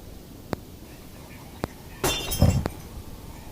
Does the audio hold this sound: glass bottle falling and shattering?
yes